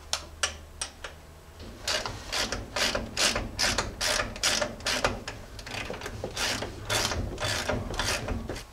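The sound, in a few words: ratchet tightening a nut on a Jeep lift bushing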